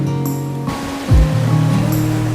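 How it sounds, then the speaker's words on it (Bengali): Cold sea waves wash up a beach at night at high tide, with a loud, close surge and splash midway that settles into a continuous rushing wash. "পায়ে এসে লাগলো ঠান্ডা সমুদ্রের ঢেউ।"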